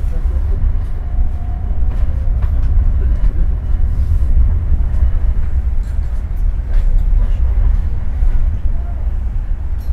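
The Airlangga passenger train rumbles on steadily and loudly with deep low-end roar and rattling as it comes into Pasar Senen station, with faint talk underneath.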